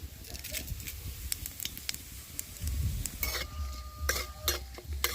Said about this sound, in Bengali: ফোড়নটা ফুটে উঠেছে